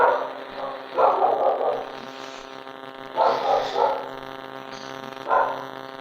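Several dogs barking in a building, a burst of near barks followed by more barks in quick groups, loud and somewhat echoing, set over a constant electrical hum.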